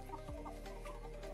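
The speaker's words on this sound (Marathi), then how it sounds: "घरी कोंबड्या पण आहेत." Farm chickens cluck in a short, quiet burst, with a few soft calls set against faint background noise.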